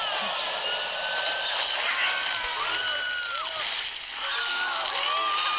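Jetpack running in the Hungry Shark mobile game, a steady loud jet-like roar with whooshing, sloshing underwater game effects layered over it throughout.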